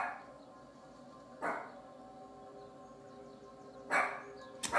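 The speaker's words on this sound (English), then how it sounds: "sometimes when the dog starts barking in a reading" An indoor dog barks in sharp single yips, three brief barks spaced unevenly with quiet room tone between them, fairly close and with no talk over them.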